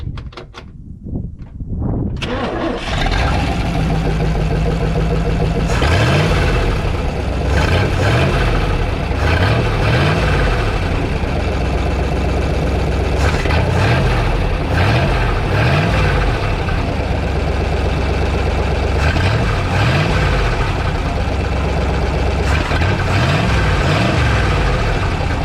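Rebuilt-fuel-system 1955 Chevy wagon engine cranks briefly, then catches and keeps running loud and close, with a steady low idle and repeated revving that rises and falls.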